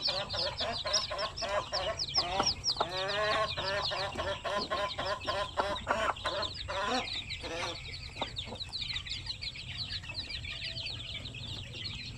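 A crowd of Basilan native chicks, some days old and others weeks or a month old, peeping constantly in rapid, overlapping high chirps close by.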